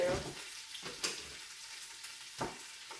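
Roasted beef bones, going back into hot oil for bone broth, land with a few sharp knocks and short bursts of sizzle over an otherwise quiet kitchen background.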